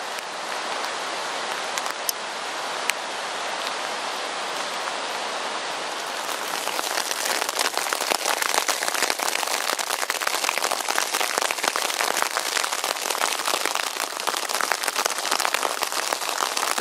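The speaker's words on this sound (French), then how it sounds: "Donc c'était pas de la neige, c'est de la grêle." Hail drums on a tarp overhead during a storm in Kyrgyzstan, a dense, steady hiss of hard pellets that thickens after a few seconds into a loud, continuous crackling patter with no voices.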